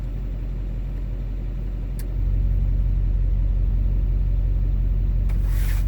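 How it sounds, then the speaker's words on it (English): A diesel truck with a tuned turbo idles in a steady, close rumble, its turbo whistling at idle; the engine note deepens and grows louder partway through, and no one speaks. "I like my whistle at idle. It sounds like a jet engine."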